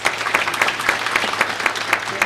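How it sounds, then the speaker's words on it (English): A small audience at a correctional service week panel claps for the panelists, a close, fairly loud run of distinct claps falling into a quick, even rhythm with no voices over it. "Let's clap for our panelists"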